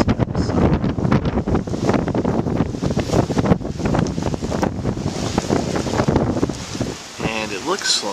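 Strong wind gusts from Hurricane Irene in Baltimore buffet the microphone with loud, rough, fluctuating roaring, while someone talks over the wind and a brief lull comes near the end.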